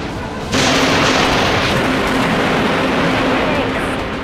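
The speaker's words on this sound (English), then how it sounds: "Amplifying weapons, aye. Launching torpedoes." Torpedoes launch from a ship in a space combat video game, a sudden loud rumbling blast that swells in and sustains as a dense roar with a low steady hum beneath, voices briefly heard over it.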